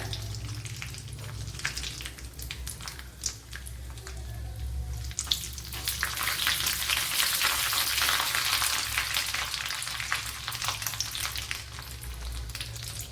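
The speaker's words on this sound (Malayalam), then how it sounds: "1 ടേബിൾ സ്പൂൺ നെയ്യ് ഒഴിച്ചു കൊടുത്തിട്ടുണ്ട്. അതിലേക്ക് ഇനി ഈ നട്ട്സ് ഇട്ട് കൊടുക്കാം." Nuts fry in a tablespoon of hot ghee for Kerala-style Onam semiya payasam, a steady close sizzle that swells louder midway, with faint stirring and no talking.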